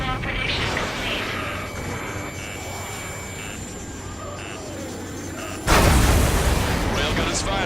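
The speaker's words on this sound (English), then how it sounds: "Railgun is firing again." A railgun fires in the Ace Combat 7 flight combat game. Aircraft engine noise and distant booms run under speech, then a sudden loud, broadband blast hits near the end and sustains.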